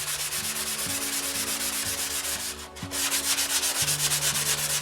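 Sandpaper rubs back and forth over a surface in steady, rhythmic strokes, close and loud, a continuous scratchy hiss with a brief pause partway through and no voices.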